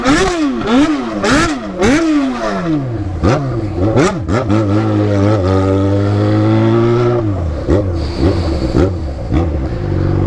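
A Yamaha XJ6 motorcycle carrying a passenger revs hard through repeated gear changes in traffic, its engine rising and falling loudly and close throughout with no talk.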